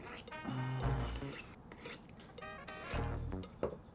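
A steel knife edge is drawn along the spine of another knife to sharpen it, making close, harsh rasping scrapes in a few separate strokes with brief pauses between them and no talking.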